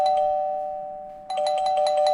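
A doorbell chimes indoors, one ring fading out, then a second rapid series of electronic dings starting midway, loud and alone with no talk.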